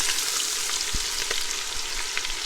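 Butter and onions sizzling hard in a hot pan, a loud, dense, unbroken hiss from near by with a couple of faint knocks.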